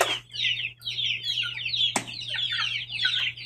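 Chicks and hens on a farm in cool, rainy Lukban cluck and peep in a steady, busy stream, high chirps overlapping near the microphone over a faint electrical hum.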